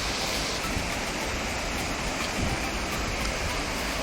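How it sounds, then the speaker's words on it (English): Laxapana waterfall in Sri Lanka roars as a dense, continuous wash of falling water, loud and close, with no voices or other sounds over it. "This is Laxapana waterfall."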